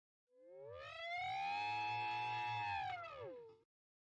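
An elephant gives a single sustained, trumpet-like call lasting about three seconds. The tone rises, holds and falls, with a low rumble beneath it, heard alone against silence.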